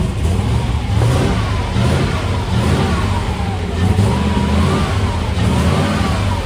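A Land Rover 90 engine held at full throttle with the handbrake on, a loud, close, continuous revving roar that surges slightly throughout, with no talk.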